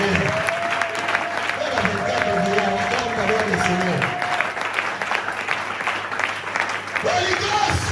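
A church congregation claps steadily and loudly throughout, with a voice singing or calling out over the applause.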